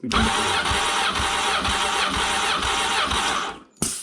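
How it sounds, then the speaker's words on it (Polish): A Honda Hornet 900 motorcycle engine holds a steady loud roar at full throttle for several seconds, close by, then cuts off and gives one short final burst. "Sobie tak sprawdzę na sucho cały gaz."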